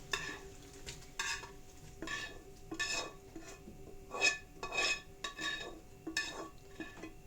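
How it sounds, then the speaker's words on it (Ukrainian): Stewed meat with carrot and onion is scraped and tipped into a pot with repeated metallic clinks and scrapes of a utensil against cookware. "Перекидаємо в каструлю."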